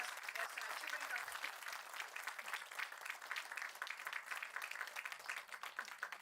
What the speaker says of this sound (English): I request the August gathering to give a loud applause